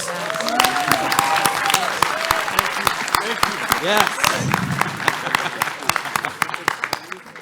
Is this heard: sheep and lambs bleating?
no